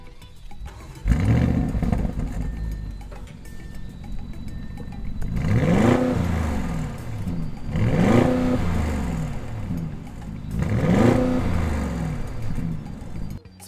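A 2020 Audi SQ7, a 500 hp SUV, fires up and then blips its engine three times in evenly spaced revs, each rising sharply and falling back to a steady idle, loud and close with no talking.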